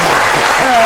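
Brief burst of audience applause at a Musrenbang 2024 sub-district awards gathering, dense clapping filling the moment with a faint voice rising under it.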